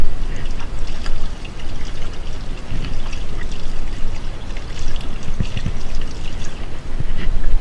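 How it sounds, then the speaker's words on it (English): A steady, loud stream of tap water runs and splashes continuously while hands are washed before making peanut butter candy. "the first thing we gotta do is wash your nasty hands"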